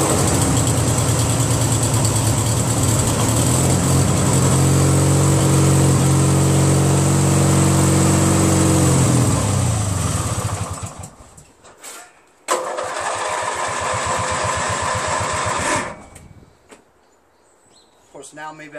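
Craftsman DYT4000 lawn tractor engine running loud and steady at idle while warming up, then cutting out briefly before a second short burst of running and a drop to near quiet.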